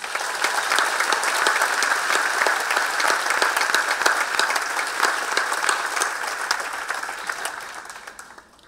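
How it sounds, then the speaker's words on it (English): Applause from a large audience at a graduation ceremony. Dense, sustained clapping is heard without speech, and it fades gradually near the end. "I would first like to give a round of applause to all the friends and family and faculty that made this moment possible."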